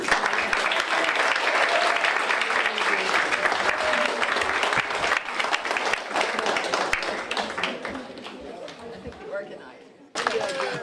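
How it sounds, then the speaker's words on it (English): Warm applause for the winners at the Katharine Lee Bates community poetry fest and birthday party, strong at first, then thinning and mixing with crowd chatter before a brief pause and a final burst. "We have one more round of applause for the winners."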